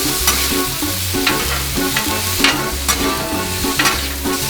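Pre-cooked shrimp fry on a Blackstone griddle with a loud, continuous sizzle and crackle, close by, with sharper spits and bursts recurring every half second or so and no talking.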